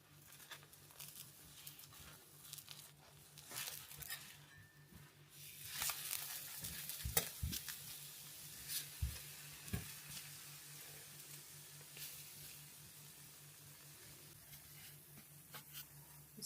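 Pancake batter and butter sizzling in a frying pan, a steady close-up hiss with occasional soft scrapes and taps, no talking.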